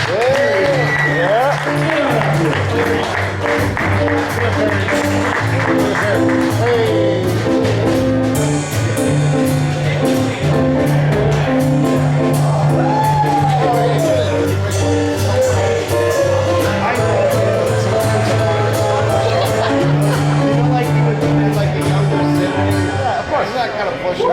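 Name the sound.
comedy show audience applauding and cheering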